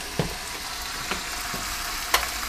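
Food cooking in a pan gives off a steady, moderate sizzle, broken by a few soft scrapes or taps from stirring.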